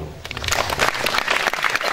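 A crowd at a community gathering applauds the winner of a charity walkathon whose prize was a motorbike, with dense, steady clapping lasting the whole two seconds at moderate volume.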